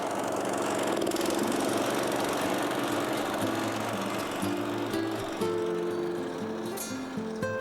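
A heavy, roughly 400-pound landscaping border-edging machine runs in a yard, a steady small-engine putter with shifting tones as it works, moderately distant with no talk.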